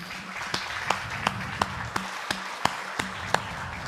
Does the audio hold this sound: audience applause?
yes